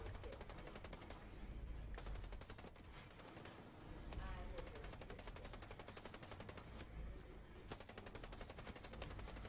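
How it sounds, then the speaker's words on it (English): Rapid bursts of automatic gunfire in a video game, dense crackling volleys with brief pauses, moderately faint, while a voice talks faintly over the shooting. "Can I stop shooting?"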